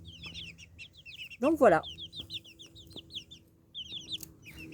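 Pekin hens cluck in a backyard chicken coop, a steady patter of short repeated calls with one louder squawking burst near the start, while a person briefly speaks.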